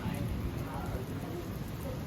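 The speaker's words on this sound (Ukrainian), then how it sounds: "і навіть трошки дощу для атмосфери" Light rain falls on the small Gili Islands in Indonesia, making a constant, soft hiss of drops that stays steady and even throughout.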